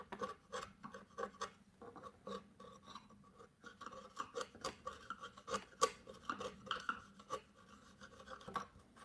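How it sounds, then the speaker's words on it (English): A sharp chisel pares wood at a timber-frame bunk bed ladder, giving quiet, close rasping strokes in quick irregular succession. "this chisel feels really sharp here. This one's doing a really easy work of that"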